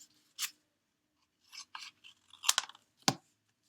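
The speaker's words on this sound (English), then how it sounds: "I'll cut this part off so it doesn't get in the way." A few short, quiet snips and rustles of paper cardstock being cut with scissors, spaced irregularly over a near-silent background.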